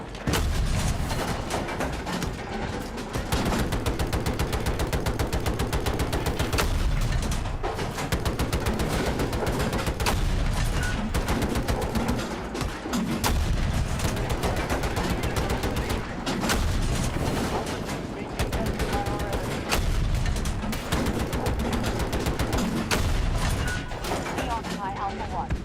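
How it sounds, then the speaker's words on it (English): Continuous heavy video game gunfire and explosions while shooting at an enemy base, loud and relentless throughout with bursts blending together, voices talking over the din. "I'm trying to shoot the base."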